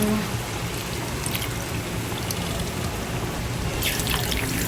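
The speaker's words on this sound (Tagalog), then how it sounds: "Maglalagay po tayo ng tubig." Water pours steadily into a cooking pot on a home stove, a continuous close splashing flow that runs alone for a few seconds.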